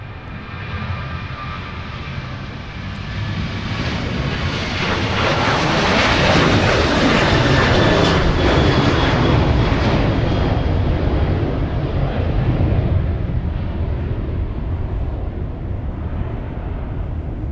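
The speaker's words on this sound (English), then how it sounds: "Delta 152 heavy lining up with 30 left here, and we'll be departing after our Sun Country 737" A Delta heavy jet takes off from runway 30 left at Minneapolis–Saint Paul airport. Its engine roar swells from a distant rumble to a loud, sustained blast, then holds steady, with no voices.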